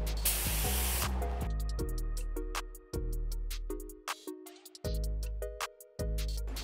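A spray gun hisses in repeated bursts while painting a Jeep, each loud blast of spray stopping abruptly, with a lingering mechanical hum between passes and no talk.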